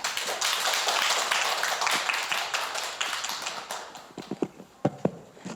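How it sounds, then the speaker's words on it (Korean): An audience at a preschool parents' education session in Korea gives a brisk round of clapping to welcome a teacher, dense at first, then thinning into a few scattered final claps. "박수로 맞아주시기 바랍니다"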